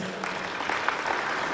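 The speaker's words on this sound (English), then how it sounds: "A round of applause for that, please." Crowd applause at a supermarket prize draw event in Botswana, a brief burst of steady clapping from many hands, loud and close throughout.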